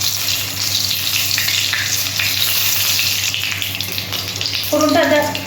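Whole spices sizzle and crackle steadily in a little hot oil for tempering a fish curry, a loud continuous frying hiss that swells slightly near the end.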